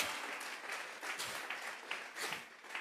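Faint clapping from a church congregation during a Thursday doctrine service, offered as praise to God, with scattered slaps and a quiet, distant sound.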